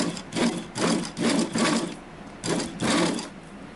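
A sewing machine stitches a zigzag seam along bikini swimsuit fabric, running loud and close in five or six steady bursts separated by short pauses.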